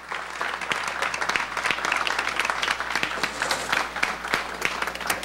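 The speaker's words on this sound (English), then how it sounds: "Let's have a round of applause, please, for Carl Brandon." Sustained applause from an audience at a talk, many hands clapping steadily throughout with no pauses.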